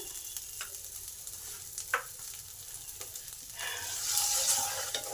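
Peas with ginger and salt in a pan are stirred with soft scrapes and taps over a low frying sizzle, and the sizzle brightens toward the end.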